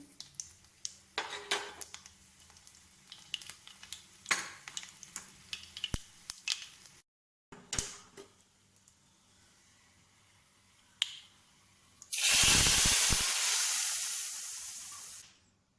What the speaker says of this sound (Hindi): 1 टेबल स्पून घी डालिए। देखिए तड़के में जाएगा राई दाना और जीरा, और इसमें हम डालेंगे क्रश्ड लहसुन।